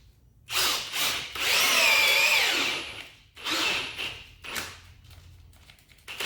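An Ozito 18V brushless hammer drill drives a 12-inch, 18-gauge landscaping screw into timber, its motor whining loud and close in long bursts that strain and pause, with a few shorter stop-start pulses near the end.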